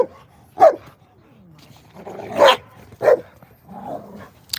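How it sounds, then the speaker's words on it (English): Several dogs bark excitedly in short, loud bursts spaced a second or so apart, close by, with a few yips and low growls between the barks. "Let me get these dogs inside because they're just going crazy."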